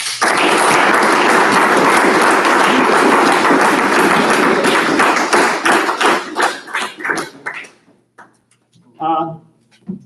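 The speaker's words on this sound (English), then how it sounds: "So final round of applause tonight for all of you here." Dense applause fills a room at an awards banquet, loud and sustained for several seconds before thinning into scattered claps and fading out, with a brief voice at the end.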